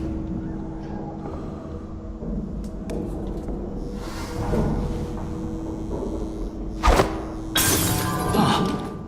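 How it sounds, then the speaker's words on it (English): Glass shatters in the video game Dishonored 2, sharp bright crashes bursting out near the end over a low ambient game soundscape with scattered smaller clinks. "That sounded like broken glass."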